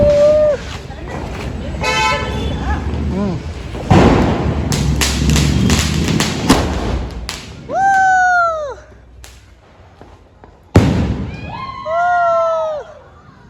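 Diwali firecrackers go off at a family celebration, sharp bangs and fizzing bursts mixed with whistling rockets that shriek upward, some loud and close, with voices between the blasts.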